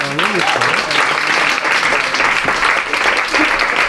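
Loud, sustained applause from an audience at a French team performance event, dense clapping filling the whole stretch, with a voice briefly audible over it at the start.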